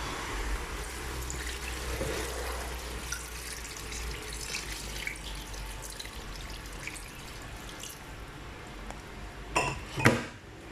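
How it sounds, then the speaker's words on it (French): Water poured into a cooking pot while an Ero dish (Cameroon) is prepared, a steady broad wash over pot and utensil clatter, with a couple of louder knocks near the end. "Là, j'ajoute de l'eau."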